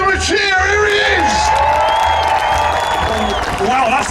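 A large arena crowd cheers, whoops and applauds loudly and continuously at a UK monster truck show after a driver climbs out of his cab, with a deep engine rumble underneath.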